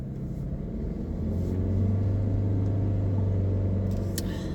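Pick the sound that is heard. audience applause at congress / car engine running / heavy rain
car engine running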